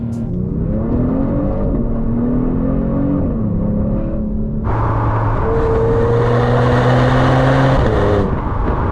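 A 2022 Genesis G70 engine revs loudly and close up, its pitch rising and falling as paddle shifters drop through the gears, with no talk over it.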